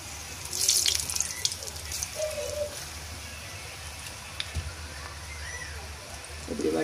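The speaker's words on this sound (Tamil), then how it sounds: "இங்கால எண்ணெய் கொதிச்சுட்டு எண்ணெயில் இப்படி புளிஞ்சு விடணும்" Pakoda dough dropped into hot oil sizzles with a steady hissing crackle, louder at first and then settling into a softer fizz, close by.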